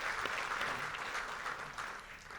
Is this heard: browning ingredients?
no